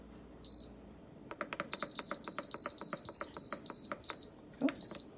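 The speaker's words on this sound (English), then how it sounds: "the timer went off" An Instant Pot pressure cooker timer beeps in a kitchen, a run of about nine short, evenly spaced high-pitched beeps with faint clicks and handling noise between them.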